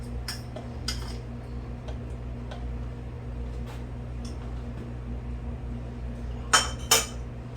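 A utensil clinks and taps against filled glass canning jars of hamburger soup while debubbling, with small scattered ticks and two louder clinks near the end over a steady low hum.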